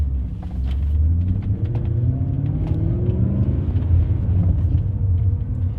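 BMW E39 M5 pulling away in first gear with its silencer removed: a loud, deep engine rumble close by, rising steadily in pitch as it accelerates, with no talk over it.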